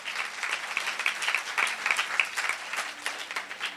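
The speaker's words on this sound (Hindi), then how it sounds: "जोरदार तालियां बजाओ" A church congregation at a Hindi-language worship service claps in a lively burst of applause, with many hands beating fast and close together, loud and sustained for several seconds.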